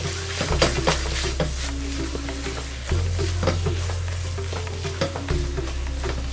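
Raw banana masala, a wedding-style vazhakkai masala, sizzles steadily in oily pan as it is stirred, with repeated scraping strokes over a constant frying hiss and no talking.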